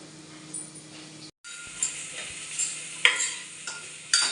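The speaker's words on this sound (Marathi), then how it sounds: "त्यानंतर हे कांदा टोमॅटो आपल्याला छान परतून घ्यायचे." Onion, tomato and ginger-garlic paste sautéing over a high flame in a pan, with a bright continuous sizzle and sharp spatula scrapes and clinks at irregular intervals, close up and without voices.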